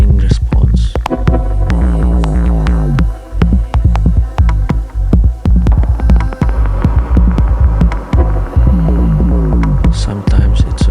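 A Moog DFAM analog percussion synthesizer plays a loud, steady sequenced rhythm of throbbing pulses and pitched drum hits, with sweeping tones repeating throughout and no voices.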